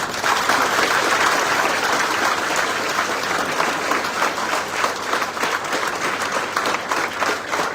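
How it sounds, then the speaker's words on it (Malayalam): Sustained applause from an audience, dense steady clapping throughout at a fairly loud level, offered for the media wing at a film-related event, with no talking over it. "നല്ല ഉഷാറായിട്ട് എല്ലാവരും നമ്മുടെ മീഡിയ വിങ്ങിന് നല്ലൊരു ക്ലാപ്പ് കൊടുക്കണം."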